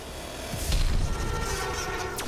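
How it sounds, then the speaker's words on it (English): A muffled boom in Dragon Age: The Veilguard swells into a rumbling roar amid ongoing low background noise, followed by a brief rising whoosh near the end. "That's some kind of explosion."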